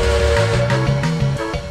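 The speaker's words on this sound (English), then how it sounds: "Larry puffed into South Plainsville Yard, blowing his whistle loudly." A steam locomotive whistle blows loudly pulling into a rail yard, a sustained, rich multi-tone hoot with slight wavering pitch and steamy hiss, close and unbroken throughout.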